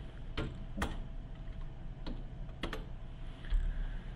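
Typing on a computer keyboard comes through as a handful of sparse, sharp key clicks spread at irregular intervals, close but quiet over a low background hum.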